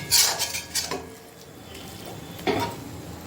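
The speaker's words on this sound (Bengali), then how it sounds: "এখনও এটা আরও নাড়াতে হবে, এখনও পর্যন্ত হয়নি।" A spoon scrapes and clinks against a pan while a finely ground mixture of semolina, milk and sugar is stirred. There are a few distinct metallic strokes, with the loudest at the start and another near the end.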